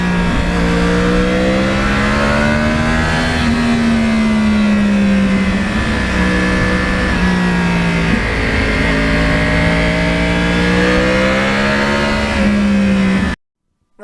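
Smooth, loud engine note of a Yamaha R1 crossplane motorcycle while riding, its pitch gently rising and falling with throttle changes, alone and continuous until it cuts out near the end.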